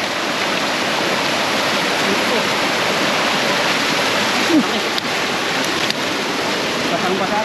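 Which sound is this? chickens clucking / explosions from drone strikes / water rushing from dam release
water rushing from dam release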